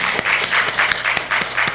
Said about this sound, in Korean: 주님께 진짜 우리 영광 올리는 박수 한번 드리십시다.